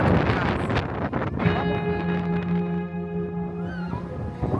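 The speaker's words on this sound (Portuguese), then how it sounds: "olha o vento como é que tá agora" Strong hurricane wind buffets the microphone with loud, gusty roaring rumble, while a steady tonal whine rises partway through and continues to the end.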